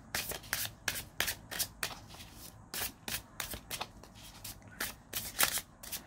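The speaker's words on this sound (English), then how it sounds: "So let's see what card we get." Oracle cards are shuffled by hand in a quiet room, a fast run of close, crisp riffling flutters and soft slaps repeating in irregular bursts.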